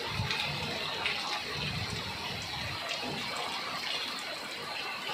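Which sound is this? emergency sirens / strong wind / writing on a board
strong wind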